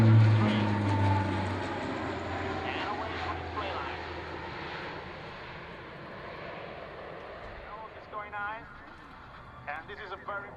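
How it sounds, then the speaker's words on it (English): A C-27J aircraft sweeps past in a low roll under at an air show, its engine roar loud at first and fading into a distant drone, with a voice talking over the later part. "a very impressive roll under from a C-27J, right in front of you"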